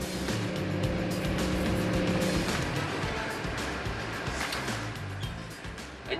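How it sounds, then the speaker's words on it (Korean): A fishing boat's engine reverses quickly at sea while setting a hairtail net, a steady low droning hum with tonal bands that stays fairly constant, then eases slightly toward the end. "철닫을 바다에 내린 어선이 빠르게 후진하기 시작합니다."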